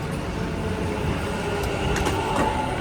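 A Dubai Metro train runs at night with an almost empty car, giving a steady, moderately loud interior rumble and rail noise throughout.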